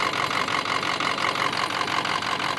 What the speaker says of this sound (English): the engine sounds amazing